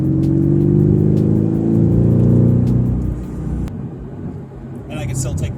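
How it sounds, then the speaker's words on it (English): Exhaust of a 2018 Mercedes-AMG GT R in comfort mode, a loud, steady engine drone close by that fades and eases off after about three seconds, with a brief higher whine near the end. "we got the exhaust system up and going here"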